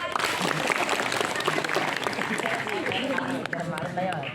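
A group at a leadership training session bursts into busy applause, loud and close, with voices calling out over the clapping throughout.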